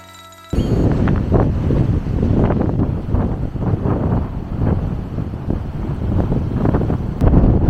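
Strong wind blows by a choppy sea on the northern coast of Barbados. A continuous, loud rush of wind buffets the microphone after a quiet opening moment.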